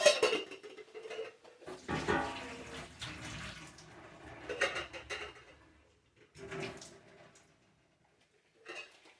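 Boiled Brussels sprouts drained in a kitchen sink, water pouring and splashing in uneven bursts close by, with pot clatter between the surges and short quiet gaps.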